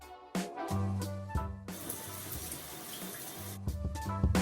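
Water runs steadily in a home shower during a face wash, a broad continuous hiss broken by a few sharp splashes and a short low humming voice at the start and end.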